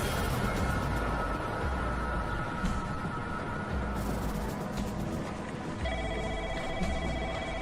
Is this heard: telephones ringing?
yes